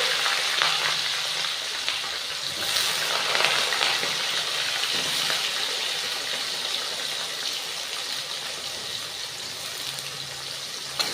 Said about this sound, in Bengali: পেঁয়াজটা ভালো ভাজা হোক